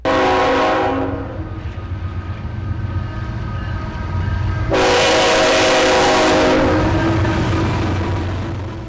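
Train at a railroad station, a loud sustained horn blast that cuts off, then a second strong horn burst over a continuous rumbling rail noise.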